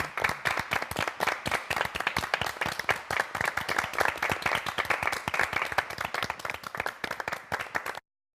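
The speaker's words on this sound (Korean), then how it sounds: "우리 하나님께 영광의 박수 드리겠습니다" A church congregation claps in a dense, rhythmic burst of applause during a live revival broadcast. The many hands sound close and steady for about eight seconds before stopping abruptly, with no voices over them.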